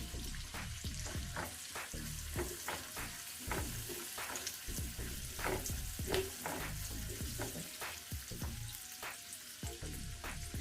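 Green chillies fry in a pan for a bitter gourd curry, a soft sizzle broken by frequent spatula stirs and scrapes, fairly quiet and close.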